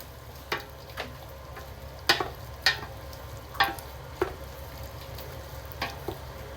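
Diced, cleaned smoked turkey frying in a pot for a healthy porridge, a low continuous sizzle broken by sharp, sparse stirring clinks and taps near the mic.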